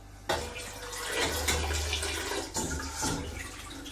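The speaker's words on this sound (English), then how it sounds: "So let's get it drained and then let's get it boiled." Wort runs and splashes steadily during draining on a homebrew rig for a Vienna lager, a continuous close watery rush with no talking.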